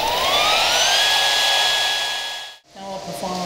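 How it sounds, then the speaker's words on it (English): AGP HP1400 high-frequency beveling machine spinning up, a rising whine that settles into a steady high-pitched running tone, then cuts out abruptly, followed by a fainter tonal hum. "First allow it to come up to full operating speed before you contact the workpiece"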